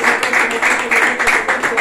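A crowd at a civil wedding ceremony applauding steadily, a dense wash of many hands clapping at once, continuous and fairly loud throughout.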